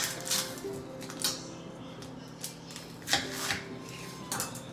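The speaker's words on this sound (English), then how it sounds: "Rough cut your onion, cut it in 4s." A knife rough-cuts an onion into quarters on a board for a New England boiled dinner, a handful of light, irregular chopping knocks, close and quiet, with no talk.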